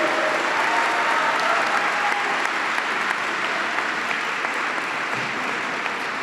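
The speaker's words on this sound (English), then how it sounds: "let's give a big round of applause to the Marshall School Jazz Band Ensemble" A school-event crowd gives the Marshall School Jazz Band Ensemble a sustained, loud round of applause, dense even clapping filling the whole stretch with no talk.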